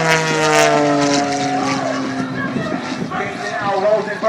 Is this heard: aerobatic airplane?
yes